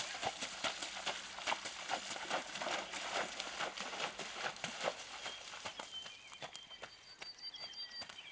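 Hooves of a large ridden horse clip-clop in a steady walking rhythm close by, with faint bird sounds in the background.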